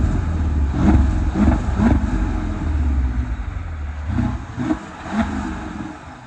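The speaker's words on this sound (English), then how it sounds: "But it does have a nice little exhaust hum." Mercedes-Benz non-AMG car with an oil leak reaching the ECU gives a low, steady exhaust hum with a few gentle swells of revving, close and continuous with no talking.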